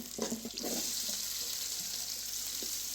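Tomato is added to roasted onion in a frying pan, giving a steady, close sizzling hiss with a few soft clatters at the start.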